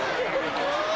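Baseball stadium crowd at a Cincinnati at San Francisco Giants game, a steady murmuring babble of many distant voices filling the ballpark for about a second with no break.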